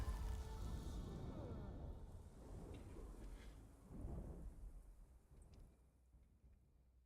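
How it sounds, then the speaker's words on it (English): Lightning strikes and heavy thunder in the video game Wuchang: Fallen Feathers, loud rumbling crashes with a swell near the middle that fade toward the end, over a dense stormy background. "Oh, the lightning destroyed me."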